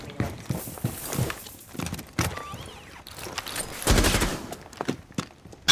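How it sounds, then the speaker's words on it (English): Gunfire in Rainbow Six Siege, bursts of shots and impacts mixed with footsteps and clattering, uneven and busy throughout with a denser loud stretch near the middle. "they're shooting in that window"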